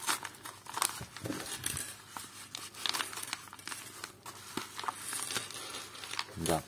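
A delivered parcel is opened carefully up close, with continuous crinkling and crumpling of packaging and occasional sharper tearing and rustling bursts, fairly quiet overall.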